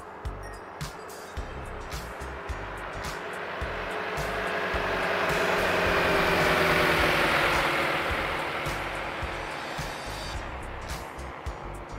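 Simulated DR401 light aircraft engine in X-Plane 11, a steady droning hum that swells louder toward the middle and then eases off, with occasional small clicks.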